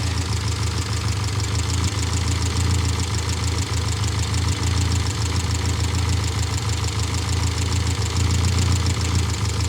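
A 1972 Austin van, running again after 30 years, idles steadily and loudly up close with an even, low mechanical throb and a faint knocking texture, and no one speaks.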